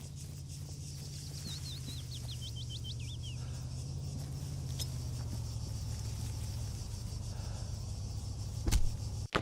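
A vehicle engine in the Arma video game drones low and steady throughout, a continuous rumbling hum with a brief whining sweep early on and a sharp thump near the end.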